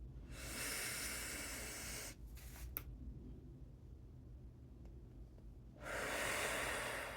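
Slow, deep breathing during a seated chair stretching class: a long airy inhale, a quiet pause, then a broad breathy exhale, soft and close.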